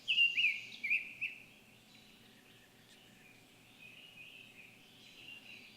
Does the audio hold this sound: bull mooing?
no